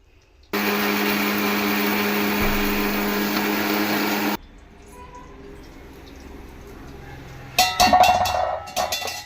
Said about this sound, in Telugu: ఇదిగోండి మిక్సీ పట్టేసా